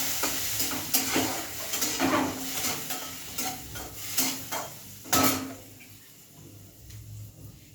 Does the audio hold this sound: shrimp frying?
yes